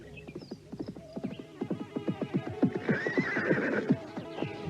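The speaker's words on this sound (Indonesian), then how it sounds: "dikejutkan dengan suara kuda di depan pondok itu" A horse neighs and whinnies repeatedly in front of a hut, with clip-clop hooves close by, loud and continuous.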